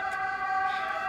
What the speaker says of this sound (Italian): E in questi mercati passano pure le sirene, che volete farci?